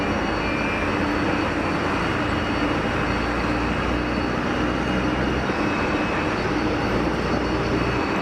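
A Swiss Airbus A220 rolls for takeoff at Geneva Airport, its engines a broad, steady roar that holds at an even, fairly loud level from start to finish with no voices.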